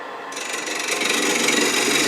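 A woodturning lathe cutting a wooden finial for an ornament, a close, steady scraping hiss of the tool on spinning wood that starts abruptly and stays even for a couple of seconds.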